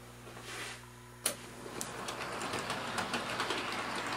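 A DC model train pulls away on a reversing shuttle track, a sharp click followed by a quiet, steady rolling rumble and faint rhythmic clicking of wheels close by.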